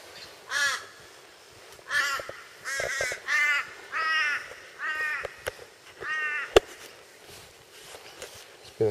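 Crows caw repeatedly in harsh, loud bursts at a Coochin Creek campsite in Australia, several calls spaced across the stretch with brief quiet gaps and a sharp knock partway through.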